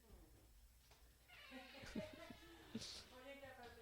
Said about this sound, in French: je suis désolée pour ceux qui écoutent, mais j'ai des chats ici